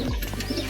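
Pigeons in a loft give a short, close cooing call, low and throaty, heard alone without talk.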